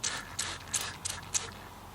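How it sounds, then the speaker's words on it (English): A handheld water spray bottle misting a wild hedgehog house during spring cleaning, with about five quick trigger squeezes, each giving a short hissing spritz with a faint mechanical click, fairly quiet over low room hum. "just spray some water on here."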